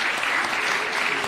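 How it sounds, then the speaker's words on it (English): A brief burst of steady audience clapping at the YouTube Black Voices closing ceremony at State House, dense and even, with no voices. "A really warm round of applause for His Excellency one more time."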